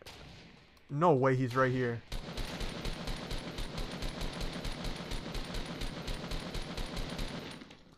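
Rapid automatic gunfire in a Fortnite battle, a long run of sharp, evenly spaced shots fired close and loud, starting just after a short excited spoken line.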